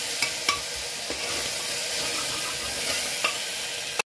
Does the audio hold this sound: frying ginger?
yes